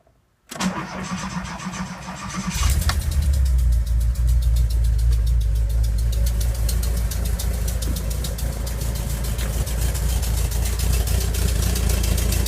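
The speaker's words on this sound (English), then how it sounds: "Now I'm going to start it up." A 1985 Volkswagen T25 Westfalia van engine cranks briefly, catches, and settles into a steady, loud idle with a rapid rhythmic chug that continues to the end.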